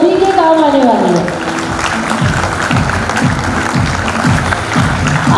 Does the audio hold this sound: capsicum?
no